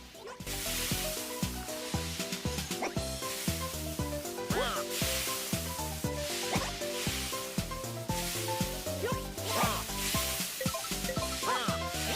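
Steaks sizzle in a Mario Party minigame with a steady frying hiss, mixed with rhythmic game music and occasional quick sound effects throughout.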